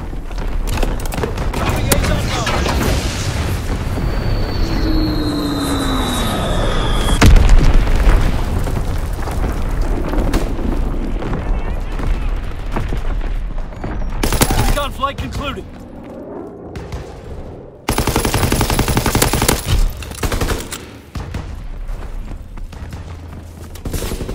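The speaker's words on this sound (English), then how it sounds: "Recon bombing mission artillery ready for orders" Artillery bombardment and gunfire rage in Call of Duty: WWII, with loud repeated booms, bursts and rumbling blasts over several seconds, radio-style voices and shouting mixed in, and a few sudden drops between barrages.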